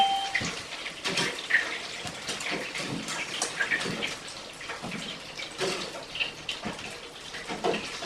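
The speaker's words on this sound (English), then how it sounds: "Pick that stuff out, let it drain, dropping it in there." Karaage chicken pieces drop into hot frying oil and bubble with a steady, dense sizzle and crackle, close and continuous without talk.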